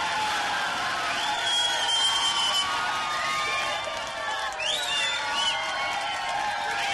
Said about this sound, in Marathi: एकत्र मिळून या सगळ्यांनी असा जल्लोष, टाळ्या शिट्या आणि आनंदाच्या वातावरणात हा क्षण सगळ्यांनी अनुभवला